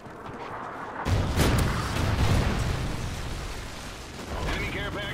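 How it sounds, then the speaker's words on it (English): Trinity rocket strike explosions in the video game Call of Duty: Ghosts arrive as heavy, rumbling booms after a quiet first second. They then roll on continuously as a dense, loud barrage. "Friendly Trinity rocket inbound."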